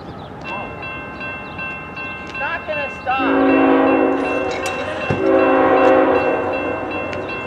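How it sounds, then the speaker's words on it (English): A CSX coal freight train with several locomotives passes through Brunswick, Maryland, blowing its multi-tone horn in short blasts, then long sustained blares over the deep rumble of engines and cars, loud and close. "Here comes the CSX freight train here in Brunswick,"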